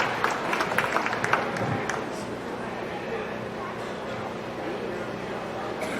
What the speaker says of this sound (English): Give this young lady a nice round of applause on a nice single entry